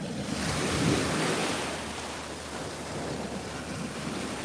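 Ocean waves roll and break onto a beach at night in a steady, close wash of surf, mixed with gusts of wind buffeting the microphone.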